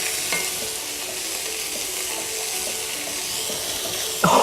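Soup stirred in a pot with a steady bubbling, sizzling hiss throughout and faint spoon scrapes, close and continuous, ending in a brief louder clatter, with no voices.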